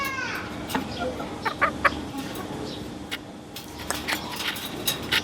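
Laying hens, one sick with bloody dysentery, cluck in short, scattered bursts close by while a person talks over the flock.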